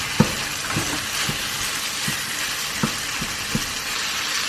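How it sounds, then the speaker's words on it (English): Beef mince frying in oil with spices in a pan: a steady broadband sizzle with occasional sharp pops and scraping stirs, close and continuous. "it's time for my mince to go in. I'm using beef mince"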